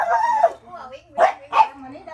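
Rescued puppies on a farm in Thailand let out a few short, soft yips and barks in the near field, spaced apart and mixed with a little background chatter.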